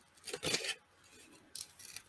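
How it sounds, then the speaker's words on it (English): Scissors fussy-cut paper for a decorated journal cover, making two close, crisp bursts of quick snipping separated by a short pause. "See how well I can fussy cut this out real fast."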